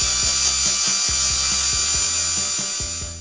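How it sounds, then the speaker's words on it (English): A power drill boring a hole into the plastic flange of a vacuum cleaner hose on a Eureka NEU182A PowerSpeed upright vacuum, a steady high whine with rhythmic bumps, close and loud with no talking. "And here I'm drilling a hole."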